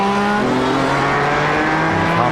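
A race car engine in a racing video game screams steadily from an on-board view at the Nürburgring Grand-Prix-Strecke, loud and sustained with a slowly shifting pitch and no voices.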